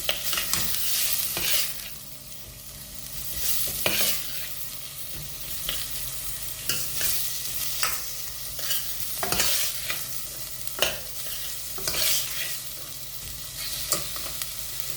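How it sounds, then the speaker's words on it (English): Onions browning lightly in a pan over low heat sizzle steadily, with repeated sharp scrapes and clacks as they are stirred, close and fairly loud, with no voices. "I'm just going to lightly brown the onions before I put the spices in."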